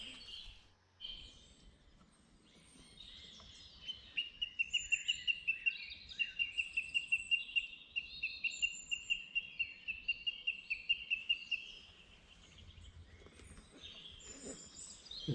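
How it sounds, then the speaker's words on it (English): Birdsong in English woodland in spring: a single bird delivers a rapid, rhythmic run of bright repeated notes for several seconds, fairly near, with softer chirps around it in a quiet setting. "The birds are singing"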